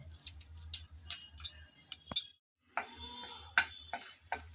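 A spoon stirring a bay leaf and dried red chilies in hot oil in a pan, soft scattered clicks and scrapes with a faint sizzle and a brief pause midway.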